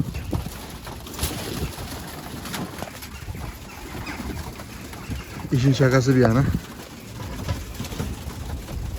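Pigeons coo near a coop, a soft rolling burst of calls in the middle of the clip, while someone talks in Turkish before and after, with scattered rustling and knocks around them.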